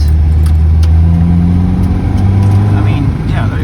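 Volvo P1800 with its B20 engine accelerating on the road, a loud, close mid-pitched engine note rising steadily in pitch, with someone talking over it.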